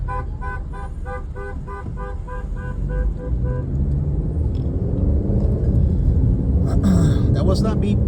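Car horn honking in city traffic beside a closed street: a run of rapid, evenly spaced beeps for about three seconds, then a louder blast near the end, all over the steady rumble of a moving car.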